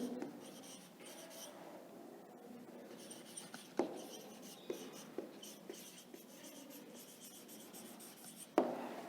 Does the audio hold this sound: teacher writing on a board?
yes